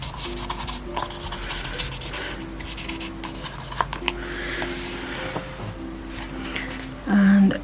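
Stickers are rubbed down onto a Hobonichi Techo Cousin planner with repeated scratchy rubbing strokes in short bursts, close and fairly quiet, separated by brief pauses.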